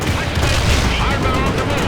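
Dense, continuous battle noise from World in Conflict, with missile launches and gunfire blended into a loud, steady roar without distinct individual shots.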